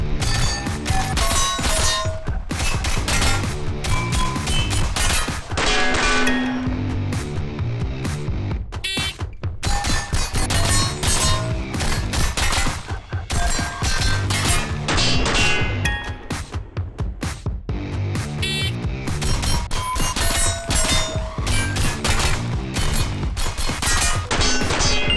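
Rapid rifle gunfire from a shooting transition drill on a range, using a gun fitted with a premium low-power variable optic, with loud, dense strings of shots and brief pauses between target groups, steel targets clanging throughout.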